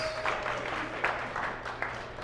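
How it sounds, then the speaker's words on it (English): A short burst of audience clapping at a live Baltimore arts showcase, a steady patter of many hands at moderate volume, with no voices over it. "round of applause for everyone who's already come up here, please"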